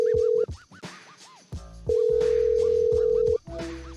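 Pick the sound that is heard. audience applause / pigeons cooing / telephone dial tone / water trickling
telephone dial tone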